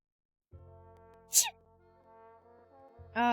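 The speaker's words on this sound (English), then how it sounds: "It's no wonder I sneezed." A video game character gives a short sharp sneeze partway through, heard over a steady low synthesized tone, with a louder burst of sound at the very end.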